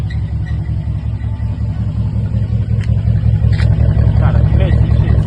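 An idling car engine with a worn rod knock runs loud and close in a steady, rhythmic low rumble, with someone talking over it throughout.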